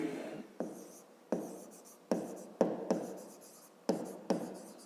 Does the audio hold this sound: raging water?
no